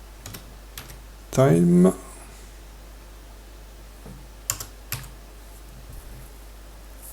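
Sparse keystrokes tap on a computer keyboard, a few scattered quiet clicks with long gaps, and a brief spoken word interrupts near the start.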